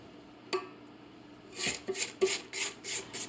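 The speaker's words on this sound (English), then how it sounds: "I'm just going to scrape down the sides once more." A spatula scraping down the sides of a mixing bowl of white chocolate cranberry cookie dough, several short rasping strokes in a quick rhythm after a single light tap, close up with no talk.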